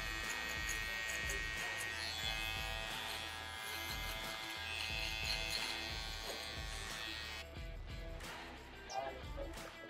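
Electric shaver buzzing steadily throughout a pompadour fade haircut, a continuous close hum with rustling and handling noises layered over it and no pauses.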